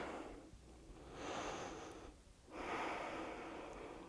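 Two slow, audible breaths taken during a power yoga session, each a soft airy inhale and exhale swelling and fading, close and quiet with a brief hush between them.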